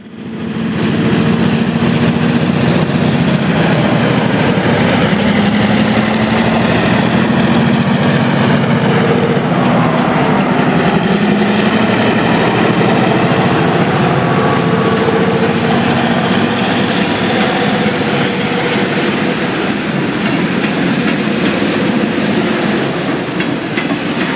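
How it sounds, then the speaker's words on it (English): Loaded CSX coal train led by a GP15-1 and an SW1500 locomotive rolls steadily past, a continuous loud rumble of wagons with rhythmic wheel clatter over rail joints, no voices. "Following the 303 is a loaded CSX coal train being led by GP15-1 number 418 and SW1500 301"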